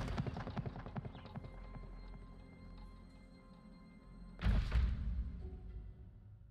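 Horse hooves clip-clop in a quick, steady rhythm in the video game Weird West, close and moderately loud, then break off into a heavy thud and a brief rumble before quieting.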